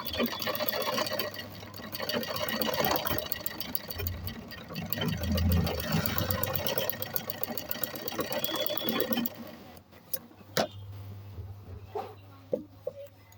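A sewing machine stitches a blouse in a steady, fast rhythm for about nine seconds, then stops, leaving a few scattered knocks and clicks; a voice speaks in the background.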